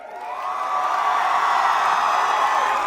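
Live crowd at a Punjabi film promotion event for Boo Main Dargi breaks into sustained cheering and applause, a dense, loud wash of voices swelling in over the first half second and holding steady.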